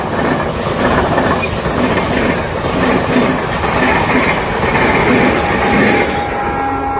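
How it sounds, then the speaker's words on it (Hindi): A train passing close by with loud continuous rumble and clattering wheels, a faint squeal appearing near the end. "ट्रेन आसला"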